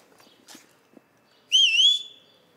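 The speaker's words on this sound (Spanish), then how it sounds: "Ese silbito es nuevo" A person whistles a short, bright rising-and-falling note lasting about half a second, preceded by faint quiet rustles.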